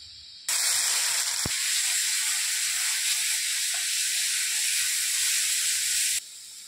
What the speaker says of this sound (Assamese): আদা নহৰুৰ পেষ্টখিনি ভাজি হৈ গ'ল।